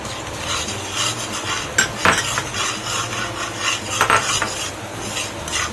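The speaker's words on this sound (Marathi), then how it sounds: "आता ह्याच्यामध्ये आपण रवा भाजून घेणार आहोत।" Semolina stirring and roasting in a pan for coconut-filled modak, a steady scraping rustle with faint sizzle and occasional sharp utensil clinks against the metal, close and continuous with no voices.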